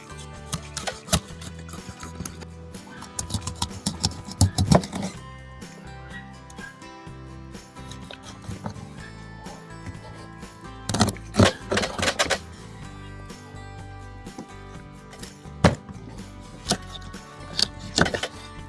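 A knife cuts a tench carcass into portion pieces, sounding as scattered sharp knocks and thuds in bursts against a board, with quieter stretches between clusters of strokes.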